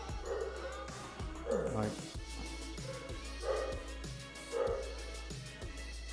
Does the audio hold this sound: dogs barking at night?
yes